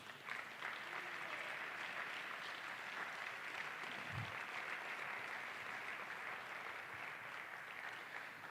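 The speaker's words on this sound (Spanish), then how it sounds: "Un aplauso al Señor, hermanos." Church congregation at a worship congress applauding, a steady wash of many hands clapping at moderate distance, continuous for over eight seconds with a brief low thump partway through.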